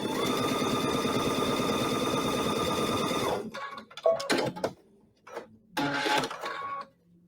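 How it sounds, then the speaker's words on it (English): A sewing machine stitches fabric print pieces in a fast, even mechanical run for about three seconds, then stops. A few scattered handling clicks and fabric rustles follow in quiet gaps. "Just sew it on one of the corners."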